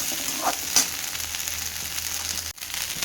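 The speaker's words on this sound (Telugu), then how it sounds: "మనం తెచ్చి ఇట్లా వేయించి పెట్టుకోవచ్చు పిల్లలకు బటర్లో ఇది వేయించుకొని" Corn kernels frying in butter in a home kitchen pan, a steady close sizzle with a couple of brief crackles and a stir or scrape partway through, no voices.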